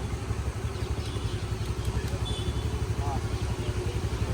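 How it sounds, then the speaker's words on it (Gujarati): A Honda Activa scooter engine runs steadily at idle under test after a new battery was fitted, a low continuous throbbing hum close by with faint clatter and no talk. "એક્ટિવાનું ટેસ્ટિંગ ચાલુ છે."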